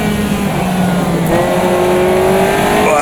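Caterham race car in the Automobilista 2 racing game at Cadwell Park, its engine droning loudly and steadily, then dropping pitch in a downshift partway through before pulling back up in a lower gear.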